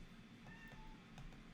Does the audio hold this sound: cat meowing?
yes